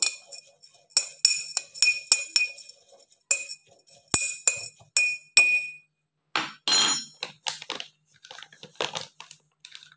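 A spoon clinks against a glass while overnight oats are mixed with chia seeds: bright, rapid taps in clustered bursts, close and clear, with short pauses and softer scraping stirs between.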